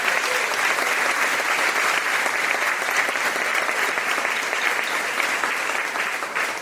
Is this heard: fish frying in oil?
no